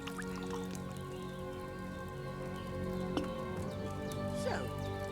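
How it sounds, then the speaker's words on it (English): Wine poured from a pitcher into a cauldron in Kingdom Come: Deliverance II, a soft wet trickling and splashing over a steady background hum and faint musical tones, with a couple of small drips and clinks. "First, you have to pour the right base into the cauldron."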